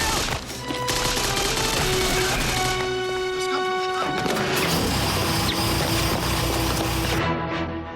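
Continuous loud gunfire on a beach in a wartime island drama, with rapid bursts and crashing impacts over a dense, booming background, with shouted voices mixed in.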